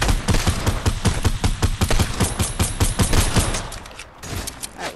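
Rapid bursts of gunfire from the Fortnite video game, loud and continuous volleys of shots that thin out near the end.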